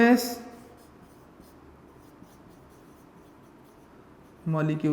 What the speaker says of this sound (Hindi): तो मैं यहां पे लिख दूंगा कि मॉलिक्यूलर